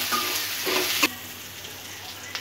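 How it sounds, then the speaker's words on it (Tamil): Onions frying in a pan for poha upma (aval upma), a steady close sizzle with brief stirring scrapes and a sharp clink of a utensil. "வெங்காயம் பொன்னிறமாக வதங்கிடுச்சு."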